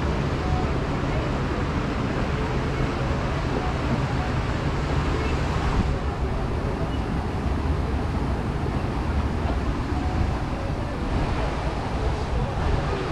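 Water rushes and splashes around a Fjord Rafting log flume raft boat at Europa-Park, a dense, constant roar heard from on board, with riders' voices mixed in.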